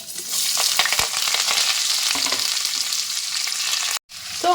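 Onions and curry leaves roasting in a pan for curry leaf rice give a loud, steady sizzle with stirring scrapes. The sound cuts out briefly near the end, then resumes.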